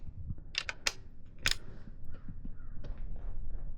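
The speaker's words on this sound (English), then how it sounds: "got my 6mm, got my ratchet, make sure I'm loosening, not tightening" A 6mm ratchet loosens a fairing bolt on a 2025 Ducati Panigale V2, giving a few sharp metallic clicks close by over a quiet background.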